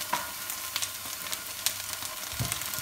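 Onions and boletus mushrooms sizzle in butter in a pan, a steady moderate frying hiss with light scattered crackles and a brief low thump near the end.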